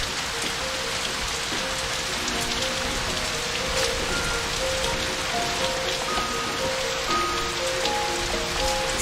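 Steady rain patters on surfaces in the video game Know By Heart, a continuous dense hiss of drops with faint tonal music lines underneath, no voices.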